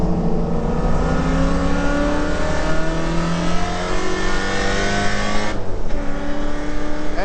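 A Holden Commodore VK V8 race car with a T5 gearbox and full-floating differential on Dunlop and Bridgestone R tyres accelerates away at Bathurst, its loud onboard engine climbing steadily in pitch, with a brief gear-change dip near the end.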